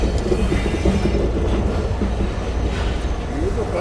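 Millat Express (18 Down, running between Lala Musa and Karachi) rolling on the rails, a steady loud rumble of wheels and carriages with faint rhythmic clatter and occasional squeals throughout.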